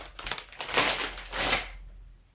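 Packaging of a Spider-Man item bought at Action being opened: a few loud, close bursts of rustling, tearing and crinkling over about two seconds, then tapering off.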